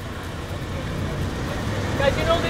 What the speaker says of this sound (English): 1995 Toyota going in there as well.